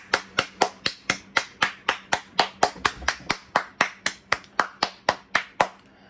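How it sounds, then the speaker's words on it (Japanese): A single person claps steadily, about twenty crisp, evenly spaced claps close to the listener, with no talking over them. "もう拍手です。 もう これは拍手でございます。"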